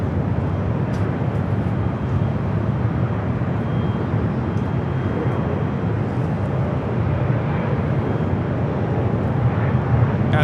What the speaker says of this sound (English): Here we have a 757-200 with Delta about to take off to Atlanta